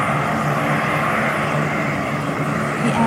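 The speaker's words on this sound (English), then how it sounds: "The airplane circled in the turbulent sky above" A propeller airplane circles overhead in a stormy, turbulent sky, its engine a steady, loud drone that never lets up or fades.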